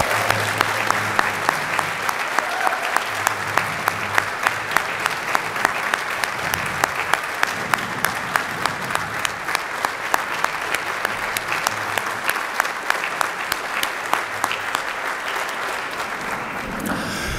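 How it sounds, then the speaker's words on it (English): Long, loud round of audience applause at a university hall of fame induction ceremony, steady dense clapping with a few sharp nearby claps standing out throughout. "Please join me in a special round of applause for Greg Stottlemyre."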